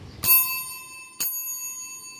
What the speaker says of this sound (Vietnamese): Đây có một cái chuông bằng đồng.